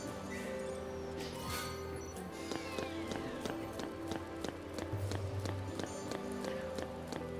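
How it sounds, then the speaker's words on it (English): Loud, rapid running footsteps on dirt in the Final Fantasy XIII video game, a quick steady run of sharp taps over busy game music and ambience. "Those are some weird sound effects given that she's running on dirt. They're very loud footsteps."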